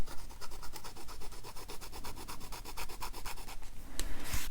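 Platinum fountain pen nib scratching across paper with slight resistance, a steady series of close, faint rhythmic strokes with a brief louder scrape near the end.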